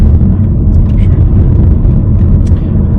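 A car on the road to an animal shelter, its engine and road noise forming a loud, close, steady rumble inside the cabin, with a few faint clicks above it.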